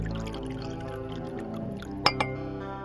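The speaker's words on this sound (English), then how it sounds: "Let me pour you a glass." Wine pours into a glass in a short, gurgling stream over steady background music, ending with a sharp glassy clink and a softer second tap.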